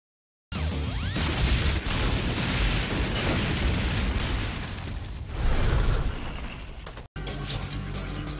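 An explosion in the Shin Kamen Rider film lands as a loud, sustained blast and rumble of debris that swells near the end, then cuts briefly before a fainter continuation.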